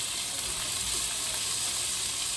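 Fish pastilla filling with mushrooms and olives sizzling steadily in a frying pan, a continuous close hiss of frying with no talk.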